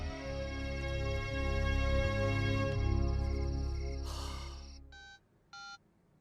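A telephone rings in a Hindi family drama film: background music fades, then two short electronic ring bursts follow in quick succession, clear and moderately loud.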